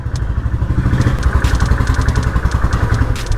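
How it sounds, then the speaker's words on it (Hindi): A warmed-up motorcycle engine runs loud and close at the start of a morning ride, with a continuous low throb and a steady pulsing idle. "इंजन मैंने सुबह सुबह गर्म कर दिया था आज।"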